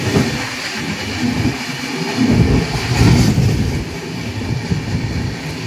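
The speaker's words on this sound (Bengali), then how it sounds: "পাহাড়ের মাঝে দিয়ে ধীরে ধীরে এগিয়ে যাবে তোমাদের ট্রেন" The Hirakud Express moving slowly through hilly country, a loud, steady rumble of the running train with continuous rolling rail noise throughout, no voices.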